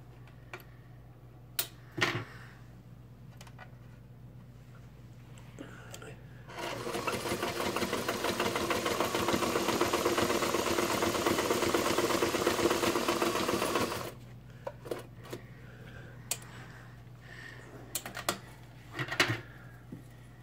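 A White 609 sewing machine stitches a zigzag in a single steady run of about seven seconds, a fast mechanical whir and clatter, with faint clicks and handling noises before and after in an otherwise quiet room.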